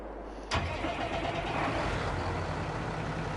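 Tractor engine in Farming Simulator 22 starting up with a sudden burst, then a steady loud mid-pitched rumble and low drone continuing close by, alone without talk.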